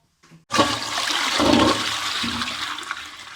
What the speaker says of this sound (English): And now I need to flush.